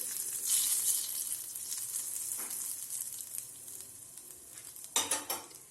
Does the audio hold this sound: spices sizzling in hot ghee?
yes